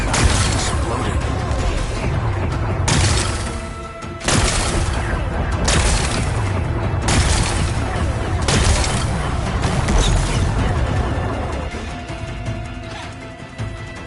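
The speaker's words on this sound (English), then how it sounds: "Gotta blast away some rocks, so I can expose the power cell." Rocks blasted apart in Horizon Forbidden West, with repeated loud smashing explosions arriving at irregular intervals amid crashing debris and a dense game soundscape.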